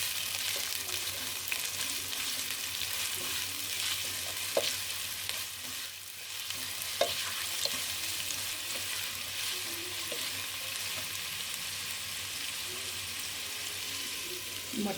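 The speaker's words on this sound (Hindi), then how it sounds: "प्याज और लहसुन डाल दिया, हल्का सा इसको फ्राई करेंगे।" Onion and garlic frying lightly in a pan give a soft, steady sizzle with occasional faint clinks of a stirring spoon, heard close and alone.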